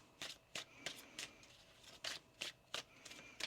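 Tarot cards being shuffled by hand in bursts of crisp riffling, roughly ten quick flutters at an uneven rhythm, close and fairly quiet with no talking.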